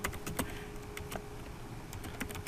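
Light typing on a computer keyboard while writing CSS code, with quick irregular key clicks in short bursts, quiet and close, and no speech.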